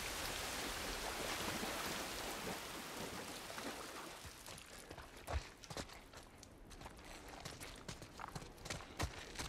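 Steady rain in The Last of Us Part 1 hisses as a dense broadband wash at first, then thins out as the scene moves under cover, leaving scattered drips and footsteps with no talking.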